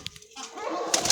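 Pigeons at a loft, with soft cooing and brief wing flutters close by, quiet and short.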